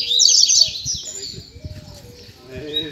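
Double-collared seedeater (coleiro) singing among other caged songbirds, a bright, rapid twittering phrase loud at the start and then fading, with someone talking over low background noise.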